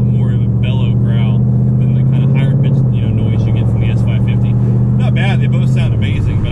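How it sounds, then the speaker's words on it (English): A first-generation Ford Mustang Coyote V8 exhaust rumbles steadily at idle, a low throaty growl with a slight drop in pitch midway, while a person talks over it. "I just always love the deep growl you got with these first-gen Coyotes"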